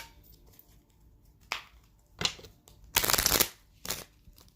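Tarot cards shuffled by hand in several crisp riffling bursts, the longest and loudest near the end, separated by quiet pauses.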